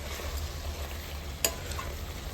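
Pumpkin and country chicken masala curry is stirred in a pan with a low, steady simmering sizzle and one sharp scrape of the spoon partway through.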